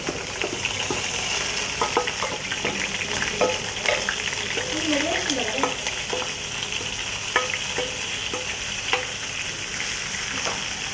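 Cabbage frying in a pan for a crispy cabbage fry, continuous close sizzle broken by frequent clicks and scrapes of stirring, with a brief faint voice partway through.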